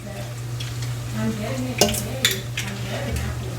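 Food is stirred and mixed in a cooking pan, giving soft scraping strokes and two sharp utensil clinks against the pan. A steady low hum runs underneath the whole time.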